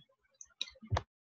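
A computer mouse gives a few soft, close clicks in quick succession, faint and isolated with no talking.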